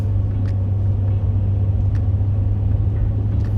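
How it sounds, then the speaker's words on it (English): Steady freeway traffic at 8 to 9 in the morning, a loud continuous low rumble of cars and engines passing with faint swells of tire noise throughout. "There's always traffic on this freeway"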